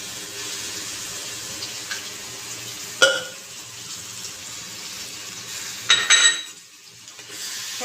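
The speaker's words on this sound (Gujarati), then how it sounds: "સરસ રીતે મિક્સ કરી લઈશું આપણું ગ્રેવી" Tomato gravy stirred into cooked onions in a pan for paneer tikka masala, a low, even simmering hiss broken by two sharp spoon-and-pan clinks and a brief wet scrape, no voices.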